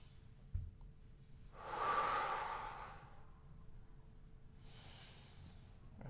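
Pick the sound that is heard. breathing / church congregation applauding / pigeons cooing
breathing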